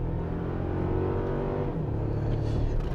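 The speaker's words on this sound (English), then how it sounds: "we are going to change our drive modes to sport and switch our transmission to sport, and away we go" A 2024 Toyota Tacoma TRD Off-Road pickup accelerating hard in sport drive and transmission mode, its engine note climbing steadily and loud from inside the cabin, with a shift partway through and no talking.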